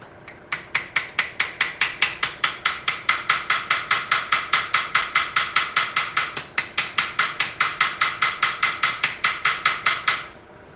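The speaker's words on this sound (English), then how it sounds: "And then I want my particular hammer, tiny little beating hammer." Small blacksmith's beating hammer strikes hot metal while forging a rose, rapid evenly spaced ringing blows, about four per second, close and loud for roughly ten seconds before stopping.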